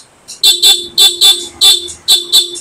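A Honda ADV160's stock horn honks in quick paired beeps, repeated three or four times in a steady rhythm, loud and close.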